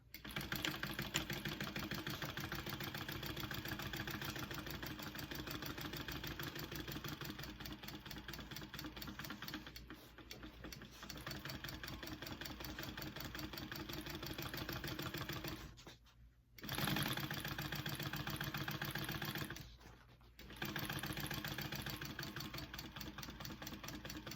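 A domestic sewing machine runs steadily, stitching a row on a fabric hip bag, its fast rhythmic whir and needle clatter continuous and close, with two brief pauses before it resumes.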